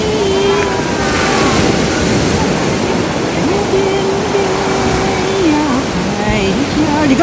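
Ocean waves wash steadily onto a beach in Hawaii, a loud continuous surf roar with a faint tonal hum running through it and no speech.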